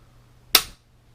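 A Sako rifle dry-fired on a snap cap gives one crisp, sharp trigger click, close and isolated, in an otherwise quiet room.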